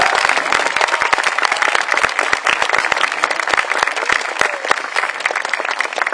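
A crowd at a horse dressage show applauds loudly and continuously, dense rapid clapping filling the whole stretch without pause.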